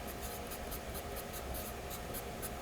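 Pen writing by hand on paper while working through a Euclid geometry proof, a steady run of short rhythmic scratching strokes, close and fairly quiet against a constant background hiss.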